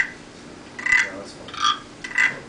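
A foley frog stick, a small ridged wooden stick scraped to imitate frog croaks: three short, raspy ratcheting bursts about half a second apart, close and fairly quiet, heard alone.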